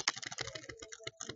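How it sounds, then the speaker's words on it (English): Rapid clicking of keys on a computer keyboard, including backspace presses, in a quick irregular burst of close, crisp taps with no voices. "go to the backspace key on your keyboard to delete text"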